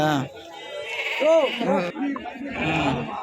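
Close sheep bleats waver and overlap in a noisy flock at a crowded weekly livestock market, with people talking over them throughout.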